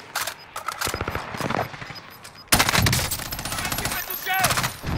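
Rapid automatic gunfire in Call of Duty: Modern Warfare on Rebirth Island, loud close bursts of shots in quick succession, with players talking in French over it.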